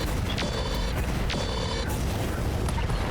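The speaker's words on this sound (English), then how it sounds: "Contained explosion, but we did get a knock." A contained explosion goes off in the BattleTech RogueTech mech combat game, a muffled boom with mechanical creaks and clanks over a dense, rumbling battle background.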